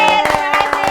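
Applause for Mimi at a live talk-show style event. Close, brisk handclaps come in quick bursts over a steady tonal background of music or hum, lasting about a second.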